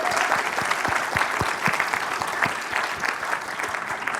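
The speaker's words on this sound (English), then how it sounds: "if you guys could just beam some applause at her" An audience at a conference closing keynote claps steadily, with dense applause filling the room throughout and individual claps standing out close by.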